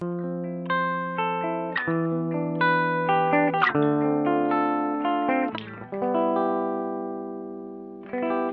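Clean electric guitar through a bypassed ZOOM MS-50G multistomp into a Koch preamp, playing a run of chords and single notes, with a steady, undistorted tone and no effects, continuous and upfront.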